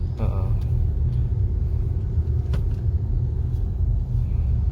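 Wuling Almaz RS Pro 2022 crawling through rush-hour traffic in D mode at low RPM, a steady low cabin rumble with faint outside traffic and a few brief clicks, people talking over it.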